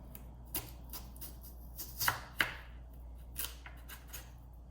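Knife slicing potatoes into French fry strips on a board, a series of sharp, crisp cuts at irregular intervals, close and moderately loud against a quiet background.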